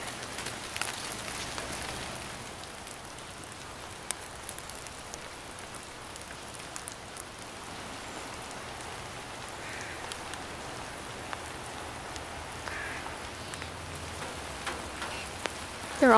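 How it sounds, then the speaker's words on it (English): Steady morning rain falls outdoors, a continuous broadband hiss of drops on surfaces that holds at an even, moderate level throughout with no voices. "It's raining outside this morning."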